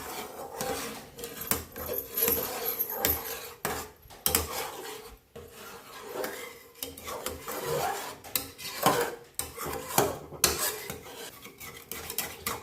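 Basundi spiced with cardamom powder and saffron masala being stirred in a pot, a utensil rasping and scraping against the metal in steady, uneven strokes with brief pauses, close and moderately loud with no talking.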